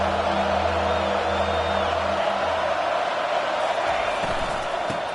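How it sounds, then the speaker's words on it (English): A home crowd at a college football game on third down, a dense continuous roar of many voices filling the stadium, steady and loud throughout, with low tonal hum underneath. "Here comes this home crowd as the defense tries to get off the field on 3rd down."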